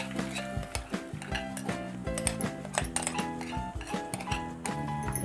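Besan batter is stirred in a pan of hot oil, producing quiet, repeated clinks and scrapes of a spoon against the pan over soft background music.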